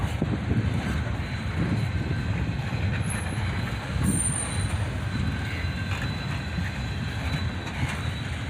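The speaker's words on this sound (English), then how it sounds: "two trains chase each other through the Leo Street crossing" Two trains running one after another through a road crossing, a steady loud rumble of wheels on rail with scattered high metallic squeals, heard from close by the tracks without any talking.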